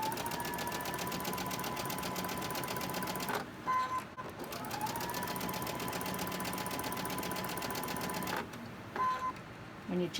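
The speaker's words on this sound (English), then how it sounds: "And I'm just going to go ahead and I'm going to chain stitch them." A sewing machine chain-stitches a quarter-inch seam in a rapid, even mechanical rattle, close and steady, with two brief pauses between pieces.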